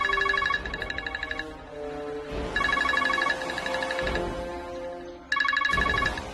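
A phone ringtone plays in three bright, repeating electronic bursts separated by short pauses, loud and close, with no talking.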